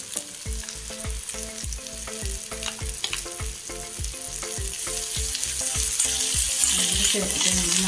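Bitter gourd sautéing with garlic-ginger paste for a Kerala-style pickle, a continuous pan sizzle with regular rhythmic stirring knocks and scrapes, growing slightly louder toward the end.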